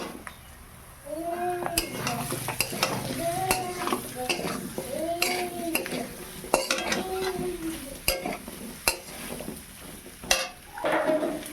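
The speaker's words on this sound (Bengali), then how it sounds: "এখানে আমি এইভাবে কুমড়োগুলো কেটে নিয়েছি, ভালো করে ধুয়ে পরিষ্কার করে নিয়েছি, এবার দিয়ে দেবো।" Washed pumpkin pieces are tipped into a pan and stir-fried with ground spices, a soft sizzle running beneath repeated scraping of a spatula against the pan, with occasional sharp clinks of metal and a voice speaking over it.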